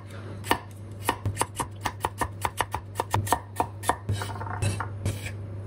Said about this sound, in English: Slice it into chunks, about this big.